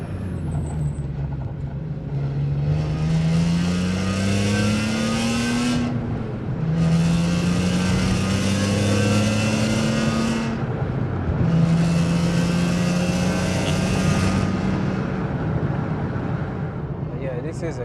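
A 350 bhp BMW E46 M3 CSL replica with a cage pulls hard in third gear, its engine rising in three long, loud accelerating runs split by brief gear-change lifts, heard from inside the car.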